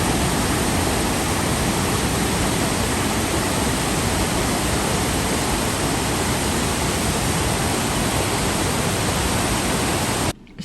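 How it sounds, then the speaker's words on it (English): Beacon Falls on Fishkill Creek in Beacon, New York, roars as a huge waterfall, a dense, constant wash of rushing water that stays loud and even until it cuts off abruptly at the end. "Beacon Falls next to it, which is a huge roaring waterfall"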